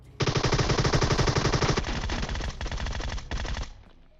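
A Groza assault rifle in PUBG Mobile fires one long, loud, rapid automatic burst, close up and alone, with a few final shots before it stops.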